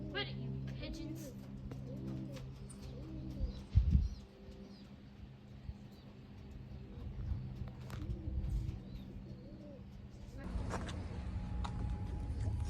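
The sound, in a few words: pigeons cooing under a bridge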